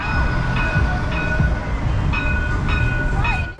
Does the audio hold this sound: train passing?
yes